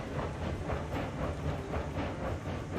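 A train rolls along in the Railroads Online simulation game, a steady dense rumble with rhythmic clatter and hiss, loud and continuous with no voices.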